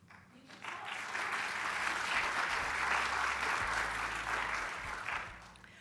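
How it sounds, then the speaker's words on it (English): Audience at a university campus updates event applauding, a full sustained round that builds quickly, holds steady for several seconds and then tapers off, with no voices on top. "I do like when I get applause before I say anything"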